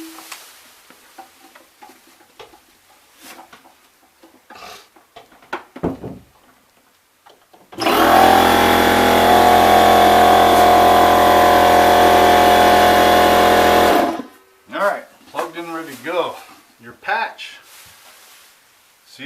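An air compressor kicks on indoors during a pushed-in drywall crack repair, running loud and steady for about six seconds as it fills, with a bright whine over a broad motor roar. Brief talk and handling noises come before and after.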